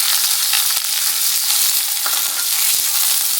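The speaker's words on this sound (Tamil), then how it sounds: "கொஞ்சம் வெங்காயம் வதங்கட்டும்." Onions sizzle loudly in hot oil that has just popped mustard seeds, a dense, continuous frying hiss close to the pan with faint stirring scrapes beneath, no voices.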